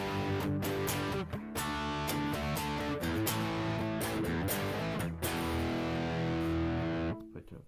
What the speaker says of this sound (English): here's by itself with the overdrive